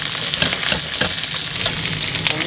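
Crucian carp pan-frying to a golden crust gives off a constant crackling sizzle with irregular small pops and spits, near and moderately loud, with no voices over it.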